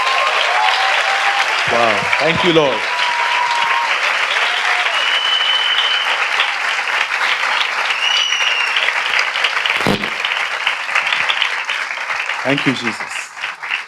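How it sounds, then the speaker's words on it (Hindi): Sustained congregational applause at a Hindi church sermon, loud dense clapping throughout while a voice calls out praises over it. "आइए हम अपने खुदा के लिए एक अच्छी ताली बजाएं।"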